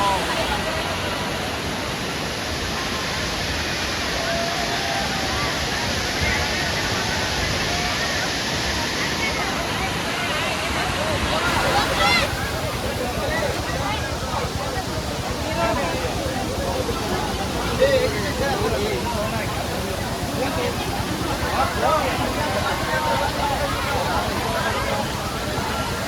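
Heavy water pouring steadily at Amboli waterfall during the monsoon, a dense continuous roar heard from nearby, with crowd voices talking underneath throughout.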